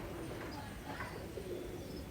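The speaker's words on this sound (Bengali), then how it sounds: "দুটি খুবই মানসম্মত কবুতর" Indian imported Madrasi pigeons coo softly and faintly against a steady noisy background, with a few low murmuring calls spread across the stretch.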